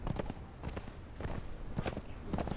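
Horse hooves clip-clop in Conan Exiles, a run of close, evenly spaced hoofbeats under faint background sound.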